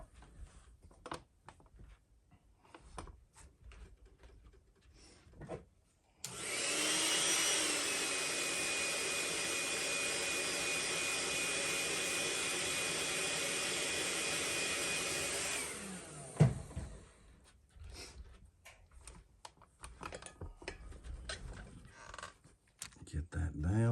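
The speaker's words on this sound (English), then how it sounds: "I'm going to heat set that really quick." A heat gun runs for about ten seconds to heat set paint on a swimbait, a loud steady whooshing roar that starts abruptly and stops sharply, with quieter handling noises before and after.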